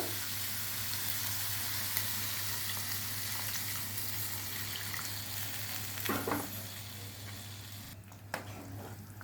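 Potatoes frying in a pan for aloo dum biriyani give a steady close sizzle after a little water goes in, with a brief clatter near the end and no talk.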